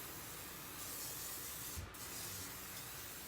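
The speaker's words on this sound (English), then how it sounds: "I have my crock pot liner, and I'm going to spray it with some nonstick spray." Nonstick cooking spray hisses from an aerosol can into a crock pot liner, a faint, steady rushing spray with a brief sharper burst partway through.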